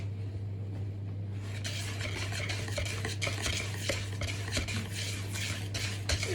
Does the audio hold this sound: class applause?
no